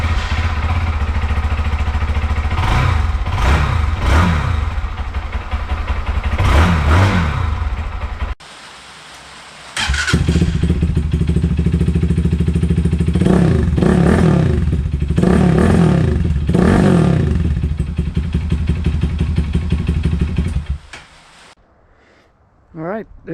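A KPR200 motorcycle with an upgraded aftermarket exhaust revs loudly in several sharp bursts, with a brief drop to idle midway and a settle near the end, close and dominant.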